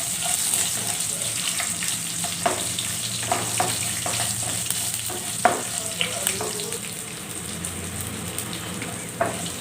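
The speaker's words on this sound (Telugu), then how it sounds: "కొద్దిగా పచ్చిమిర్చి కానీ మనకి వేగినట్టుగా అయిపోతే" Green chillies fry in tempering oil for mango rice, making a steady, close sizzle and crackle with scattered pops and stirring clicks throughout.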